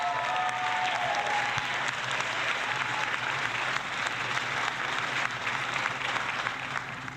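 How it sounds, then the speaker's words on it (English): Steady applause offered in tribute to the late Betty White, a dense, even crowd clapping that carries on unbroken for about seven seconds at moderate volume with no talk over it. "I'm going to give her applause."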